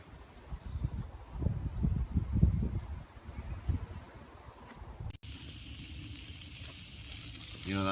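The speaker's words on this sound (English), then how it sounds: "You know that sound, morning bacon," Bacon sizzling in a pan over an open campfire, a steady frying hiss with soft crackles, close and moderately loud, with no talk.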